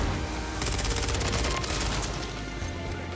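Rapid automatic SMG fire from an ISO 9mm in Call of Duty: Modern Warfare III, loud dense bursts rattling on almost continuously with game action noise beneath, no talking.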